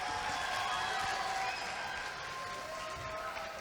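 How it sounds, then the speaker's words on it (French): A school talent show audience at the Lycée Claudel 2023 gala applauds a student, a dense steady wash of crowd clapping that eases slightly in level partway through and carries on without pause. "On applaudit Adam en 6e vers."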